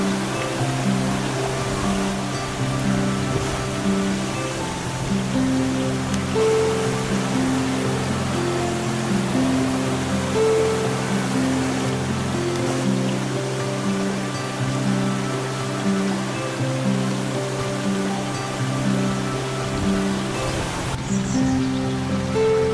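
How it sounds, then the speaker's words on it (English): Waimea Falls in Waimea Valley on Oahu gives a steady, loud rushing roar of falling water that stays constant throughout, with no voices. "there's the waterfall. Waimea Falls in Waimea Valley on the island of Oahu"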